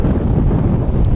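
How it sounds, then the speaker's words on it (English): Strong wind buffeting a microphone outdoors at Wellington Airport, heavy low rumbling gusts that pulse loudly and continuously with no other clear sounds. "this is my windiest stream yet, so it's a little bit difficult fighting with the camera sometimes"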